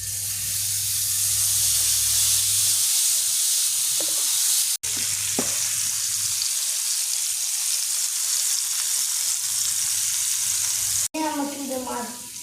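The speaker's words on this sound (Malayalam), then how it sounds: "ഇനി ചിക്കൻ ഈ പാനിലേക്ക് ഇട്ട് കൊടുക്കാം." Chicken pieces fry in oil in a pan, giving a loud, continuous sizzle and hiss close by, with a short break partway through and a few faint clinks near the end.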